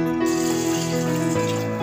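Water poured into a pot to steam colocasia leaf vadi, a steady close pour with a ringing tone that shifts as the vessel fills, with no talking.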